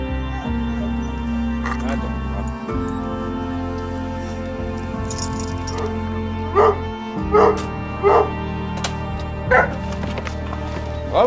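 An abandoned hunting dog found in a forest gives a run of sharp barks and yips in the second half, over steady low background rumble and brief voices.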